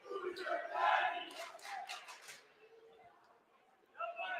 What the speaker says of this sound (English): Griswold crowd was wondering who their daddy was